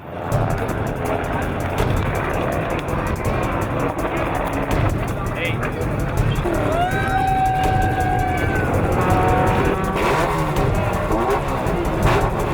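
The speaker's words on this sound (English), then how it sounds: "It's a Racer Engineering trophy truck with 42-inch tires, 442 small block board, built by Crowley racing engines" A Racer Engineering trophy truck on 42-inch tires, powered by a Crowley-built 442 small block, races in the San Felipe 250 off-road desert event, its engine a loud sustained roar with rising whining tones while people talk.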